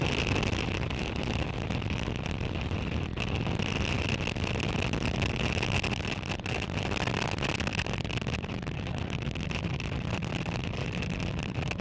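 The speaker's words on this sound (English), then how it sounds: "Successful liftoff of Falcon 9 from Space Launch Complex in Florida" SpaceX Falcon 9 lifting off from Space Launch Complex in Florida with 53 Starlink satellites, a steady, dense broadband roar with deep rumble that holds at full strength for the whole stretch, no voices.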